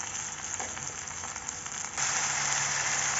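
Tomatoes dropped into a hot pan of frying onion and garlic paste for a black masala tomato curry, a steady crackling sizzle that turns louder and brighter around 2 seconds.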